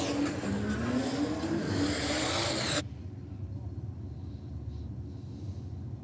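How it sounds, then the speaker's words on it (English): Yellow 275 radial Commodore drag car on nitrous revs hard at a drag strip, a loud roaring engine with rising pitch that cuts off abruptly, leaving distant crowd and track ambience. "Paul Rappo coming out in the yellow peril, the 275 radial shot Commodore"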